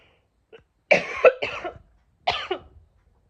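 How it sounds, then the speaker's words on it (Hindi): A few harsh coughs close by, in two short bursts separated by a pause, with no talking. "मैं इतना खांसी हूँ ना, आपको भी खांसी हो जाएगी"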